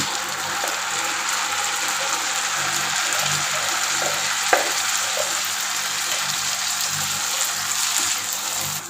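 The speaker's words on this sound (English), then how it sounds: "So I am adding the tomato sauce now." Tomato sauce goes into a pan of frying garlic and onions, with a steady close sizzle and crackle, faint stirring scrapes and a brief clink partway through.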